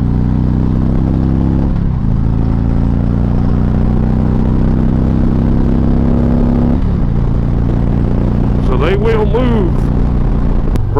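A 2019 Harley-Davidson Tri-Glide trike engine rumbles loud and close, climbing through gears with rising revs and brief dips between shifts, while wind and a voice come through near the end.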